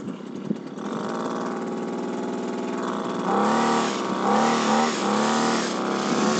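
Small engine of a motorized backpack sprayer used for spraying a potato field, running close and loud with a steady buzzing drone that jumps to a harder, higher rev partway through.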